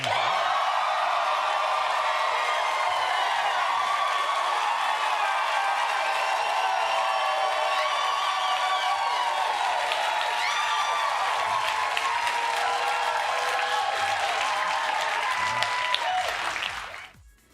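A studio audience at the return of Jimmy Kimmel Live! roars with loud, sustained applause, cheering and whoops that hold steady throughout before cutting off abruptly at the very end.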